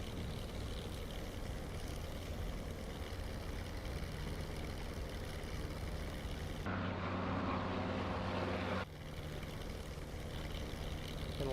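The P-51D Mustang's piston engine in DCS World hums as a steady, even drone in flight, with a brief shift in tone midway before settling back to the same constant rumble.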